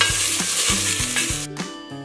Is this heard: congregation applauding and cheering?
no